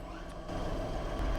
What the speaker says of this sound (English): The direct reduction plant just sounds like a vacuum.